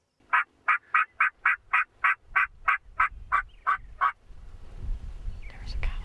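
A wild turkey gobbles in a run of about a dozen evenly spaced, nasal notes, fairly close, followed by rustling outdoor noise during a fall hunt.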